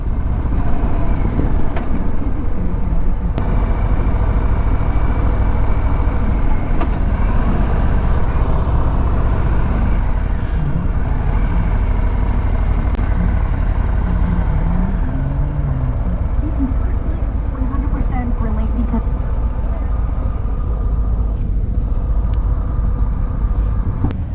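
A 2024 Harley-Davidson Low Rider ST motorcycle engine rumbles and revs loudly and steadily nearby, a deep continuous drone with a few swells in pitch and no talking.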